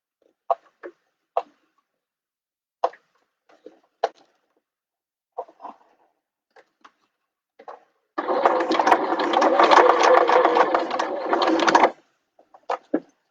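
A domestic sewing machine stitches around the corner of a fabric bag at a half-inch seam allowance, running steadily for about four seconds after a series of short, separate clicks and handling taps.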